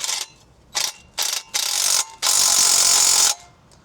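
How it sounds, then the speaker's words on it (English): Ratchet tightening a nut on a diesel truck's exhaust mid pipe: a few short ratcheting bursts, then one long continuous run of close, loud clicking. "Put your nut on there, tighten her down"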